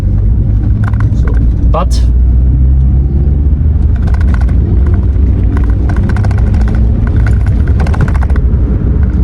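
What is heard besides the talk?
Renault Twingo accelerating from 25 to 50 km/h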